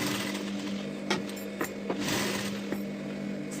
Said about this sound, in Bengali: এর উপর দিয়ে আমি কিন্তু চাপ সেলাইটা দিয়ে নিলাম।